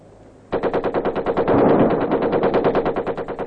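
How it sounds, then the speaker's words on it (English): Sustained machine gun fire during Ranger training in Vietnam, loud and close, with rapid rhythmic bursts that start abruptly and continue without pause over a rumbling gunfire backdrop, no voices. "the occasional chatter of machine guns"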